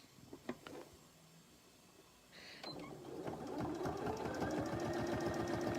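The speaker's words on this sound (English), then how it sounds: "I am going to back tack at the very top as well." A sewing machine back tacks at the top of a pillowcase seam: after a few soft clicks and handling sounds, the motor starts and builds into a steady, rapid close stitching whir.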